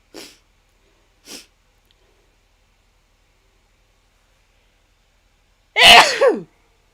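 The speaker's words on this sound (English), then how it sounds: "I gotta sneeze again" Two short sharp inhalations come first, then after a pause one loud, close sneeze bursts out and trails off quickly.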